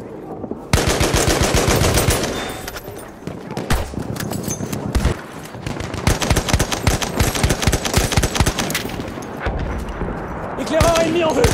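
Enemy machine gun fire rattles in Battlefield 1 Conquest on the Soissons map, loud close bursts of rapid shots broken by short pauses, with other gunfire and game noise mixed in.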